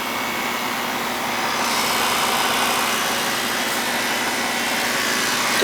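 An air conditioning unit's compressor runs with a loud, steady broadband whir and hum that swells slightly as it comes up to speed, sounding close by and continuous with no talk over it.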